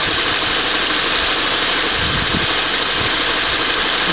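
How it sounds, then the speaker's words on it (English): A car engine idles at steady speed with its alternator charging, a constant loud mid-range rumble and hiss that holds unchanged throughout with no voices. "I got my car running"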